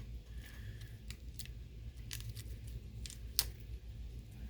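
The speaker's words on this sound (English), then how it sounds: "So let's take this plastic stuff off," Plastic packaging peeled and pulled off a Naruto action figure, a few faint crinkles and scrapes over a low steady background hum, with one sharper snap near the middle.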